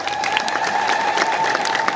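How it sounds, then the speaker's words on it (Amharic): Church administrators at a diocese gathering break into steady, full applause, a close and even wash of many hands clapping with no pauses. "አጨብጭቡ አስተዳዳሪዎች በደንብ"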